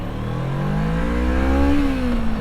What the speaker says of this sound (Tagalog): Palagpasin na natin itong mga sasakyan mabilis.